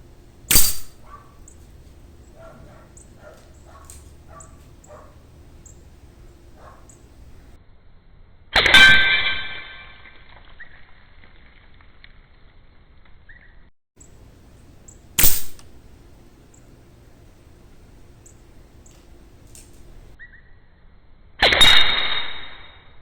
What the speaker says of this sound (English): Okay, so we'll be aiming for the left, the right, and in the middle, and then we'll shoot the wood.